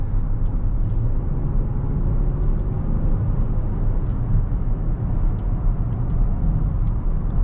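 A 2023 Cadillac XT6 in sport mode with all-wheel drive, engine held at elevated RPM, giving a steady, loud, continuous low rumble and road drone from inside the cabin, with no voices.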